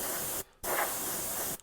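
Airbrush with no paint fed by a Tooty air compressor at 60 psi: loud, close bursts of hissing air, a brief pause, then a longer steady spray before cutting off.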